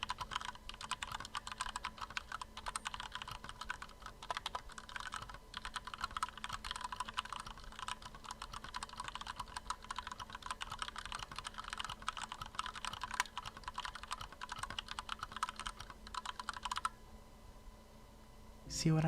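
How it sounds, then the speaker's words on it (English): Continuous typing on a stock Ghost A1 PewDiePie mechanical keyboard with brown switches, with dense, rapid clacky keystrokes close up for about seventeen seconds before stopping abruptly. "Here's a typing sound test of a stock Ghost A1 PewDiePie keyboard."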